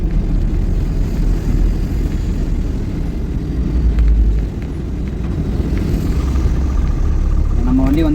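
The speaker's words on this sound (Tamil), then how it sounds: "நம்ம வண்டி வந்து 3rd கியரில் 30 ஸ்பீடில் இறக்கிட்டு இருக்கேன்." A Bada Dost i3 truck rolls downhill through the Thoppur hills in third gear at about 30, its engine a steady low droning hum with constant road rumble and no break.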